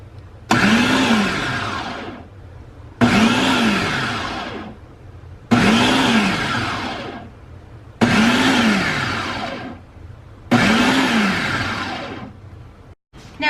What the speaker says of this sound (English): Now we're going to blend these